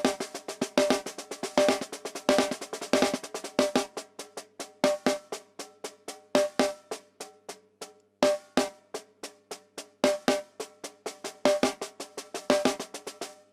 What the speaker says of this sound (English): here is the six stroke. It sounds like this.